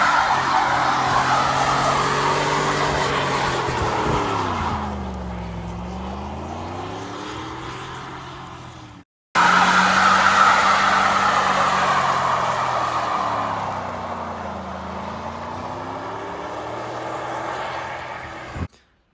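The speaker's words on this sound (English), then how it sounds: "needless to say, it does rowdy fucking burnouts" A winter beater car does burnouts, engine revving up and down in long sweeping pitch rises and falls under a broad tire-squeal hiss, loud and close, twice over with a brief cut between.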